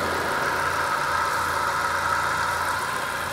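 A 2014 Kia Cerato sits with its bonnet open at a used car market in Riyadh, engine idling in a steady, even hum, close and constant throughout, with no speech.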